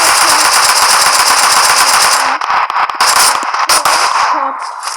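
Rapid automatic gunfire from PUBG Mobile rattles loud and close in dense bursts, breaking into shorter volleys and scattered shots toward the end.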